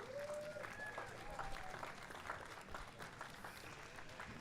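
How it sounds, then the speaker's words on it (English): Crowd applause at a STIHL Timbersports New Zealand men's championship, steady outdoor clapping and cheering from spectators, with a whistle-like tone early on and talk faintly mixed in. "Let's hear a really big round of applause for these guys."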